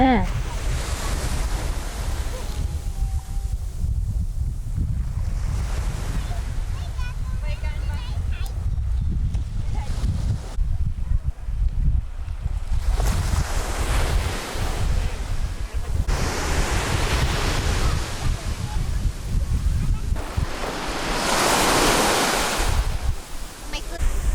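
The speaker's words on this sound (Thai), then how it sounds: "เราออกมาดูชายหาดกันตอนเช้า" Ocean surf rolls onto a beach at Phuket in the morning, broad washing swells rising and falling several times with wind buffeting the microphone and voices talking over it.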